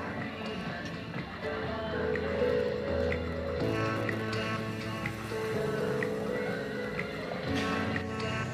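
A horse neighs and whinnies repeatedly in Shilparam park in Kadapa, Andhra Pradesh, its drawn-out calls rising over a steady outdoor background with possible hoof clops, fairly close and continuous.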